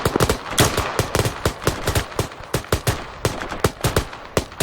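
Rapid rifle fire in the military shooter game Arma 3 cracks loudly and close in quick, irregular bursts of repeated shots for several seconds, with no talking.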